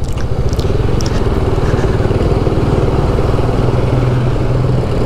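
A Honda Beat scooter-style motorcycle engine runs loud and close in a steady idle, a continuous low putter with a fast pulsing rhythm, on cold-weather rural roads near rice terraces.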